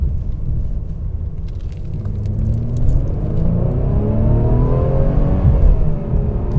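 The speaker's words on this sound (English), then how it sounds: "there's definitely some fake engine noise being pumped into this cabin here when you put it into the Sport Plus" Synthetic engine sound piped into the cabin of a 2021 Mercedes E350 sedan in Sport Plus mode, a steady droning hum with rising harmonic sweeps as the car accelerates, heard inside over road rumble.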